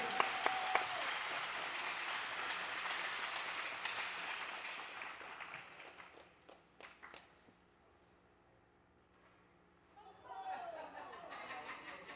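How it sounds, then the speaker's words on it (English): Audience applause at a high school hockey senior recognition, a warm burst of clapping and chatter that thins out into scattered claps, goes quiet, then swells briefly again near the end. "Big round of applause for Nate McMaster."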